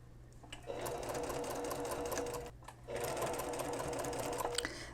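A sewing machine stitches binding around a very tight curve on a girl's side panel dress with sleeves, running in two steady bursts of whirring near the mic with a brief pause between them.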